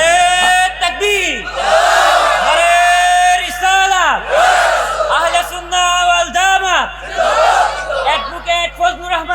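A large crowd at a religious rally stage roars and chants in unison, repeated swelling shouts answering takbir and risalat slogans, loud and close.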